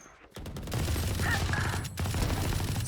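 Rapid, loud gunfire in the tactical shooter Valorant, with dense bursts of shots running almost continuously and a brief gap near the middle.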